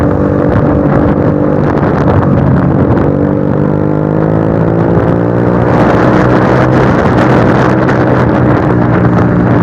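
Motorcycle with a cheap aftermarket exhaust idling and revving close by, a loud steady rumble with harmonics rising and falling as the throttle opens, and wind buffeting the microphone throughout.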